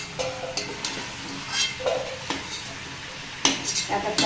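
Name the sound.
chicken frying and being stirred in oil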